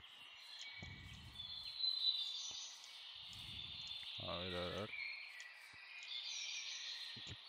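Birds chirping in modded Minecraft, faint high twittering calls over a quiet background, with a short low buzzing sound and a few soft footstep-like thuds.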